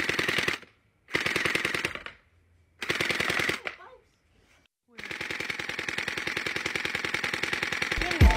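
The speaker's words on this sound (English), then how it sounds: "you saw how fast that thing was shooting rounds" An Orbeez gel pellet gun fires in fast, dense bursts with rapid mechanical rattles. Several short volleys are split by pauses, then one long continuous burst follows, loud and close.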